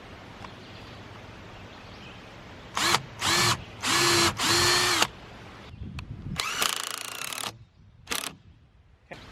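Power drill pre-drilling holes and driving 2.5-inch screws into wooden playhouse steps and balusters, heard as several close, loud short bursts of whirring with pauses between them.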